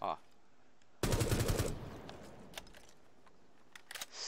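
A short rapid burst of video game gunfire, about six quick shots in a row, followed by a fading tail and faint clicks.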